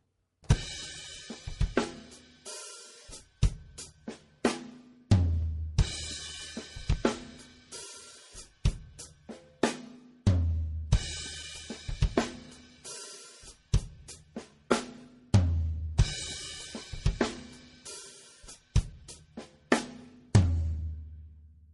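A drum kit plays a groove, a repeating pattern of crisp snare hits, cymbals and deep kick thumps, looping steadily for about twenty seconds.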